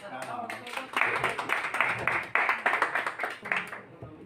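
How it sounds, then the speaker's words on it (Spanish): An audience claps together in a dense, ongoing patter of applause at moderate volume, with a brief voice under the clapping near the start. "vamos a darle un aplauso, que se lo merece"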